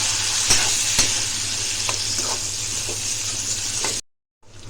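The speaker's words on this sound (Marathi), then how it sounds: "ह्याच्यामध्ये शेवग्याच्या शेंगा टाकू हे सर्व व्यवस्थित मिक्स करून घेऊया" Moringa drumstick pods tossed with salt and turmeric in a hot oiled pan, a steady close sizzle broken by a few sharp spoon scrapes against the pan, then dropping to near silence for a moment before resuming faintly.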